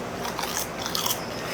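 Crisp, brittle laver (gim) topped with sea urchin and rice is bitten into, producing a quick series of sharp crunching crackles up close, with no talking.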